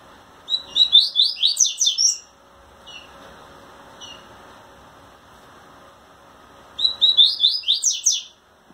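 Rusty-collared seedeater (coleiro pardo) singing to a female, two bursts of bright, rapid warbled phrases separated by a few seconds of near silence with faint chips, close and clear.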